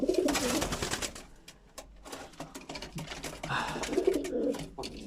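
Crested pigeons in a loft coo in soft repeated bursts, close by, with wing flutters and rustling between the calls and no clear talk.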